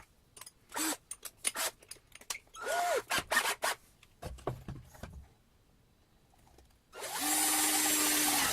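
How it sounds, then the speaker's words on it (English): Holes get drilled in a box for grommets while building a diddley bow: scattered clicks and handling knocks come first, then a power drill whirs up loudly and runs steadily to the end. "I think I'm going to just put a couple of holes right here for the grommets"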